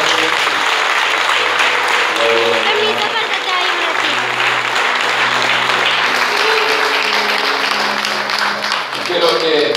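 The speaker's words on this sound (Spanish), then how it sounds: "Aplaudo al Señor." A wedding congregation in a church in El Empalme, Ecuador, applauds in a loud, steady wash of clapping that lasts throughout, with voices and some music mixed underneath.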